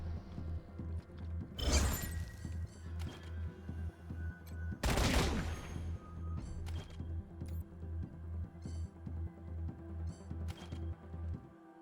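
Two heavy bursts of gunfire in Wasteland 3 crack out loud and close, over a regular mechanical pulsing background.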